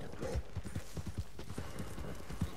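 Horse hooves from Red Dead Redemption 2 beat out a quick, steady clip-clop rhythm at a gallop, close and moderately loud against a constant background rumble.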